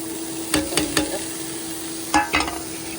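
Cooked masala goes into a pot and is stirred, with a few sharp scraping clanks of a spoon against the metal over a low steady sizzle and hum.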